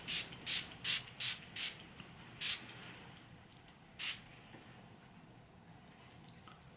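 A handheld spray bottle fires quick hissing bursts of mist, five in a fast rhythm, then a couple more spaced out, close and fairly faint in a quiet room.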